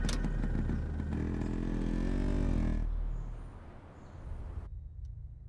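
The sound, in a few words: motorcycle riding off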